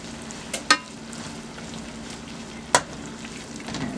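Blackened garlic salmon and shrimp sizzle in sauce in a pan, a steady soft frying hiss with a couple of sharp clinks from a utensil, close and fairly quiet, with no talking.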